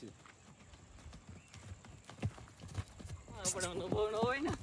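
Horse hooves clip-clopping in scattered, uneven thuds at moderate distance during horse stunt practice, with people talking over them, louder toward the end.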